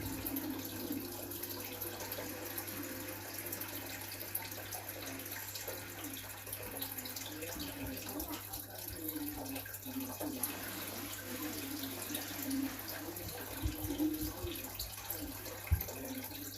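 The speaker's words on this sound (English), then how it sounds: "I'm just going to be changing this fish tank water." Water runs steadily during a fish tank water change at home, a quiet continuous trickle and splash with a low hum beneath it. Some faint background voice appears.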